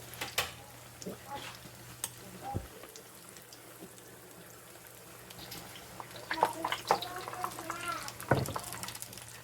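Food sizzles and crackles in a pan of frying oil turned up too high, a steady hiss with scattered pops, faint clinks and stirring, under an occasional voice in a home kitchen.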